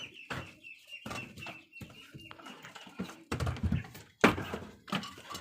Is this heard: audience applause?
no